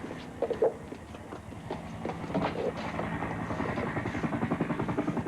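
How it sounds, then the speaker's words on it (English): A steady, rapid thumping drone of a nearby government helicopter landing on a lawn pulses throughout, with a few brief voices and knocks early on. "it's a government helicopter"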